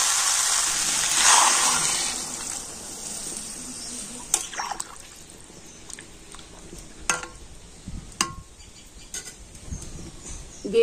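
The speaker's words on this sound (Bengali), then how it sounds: "আর এখন আমি দিয়ে দেবো জল।" Water is poured into a pan of spiced pumpkin curry, a rushing splash for the first two seconds, followed by faint scattered clinks and stirring sounds.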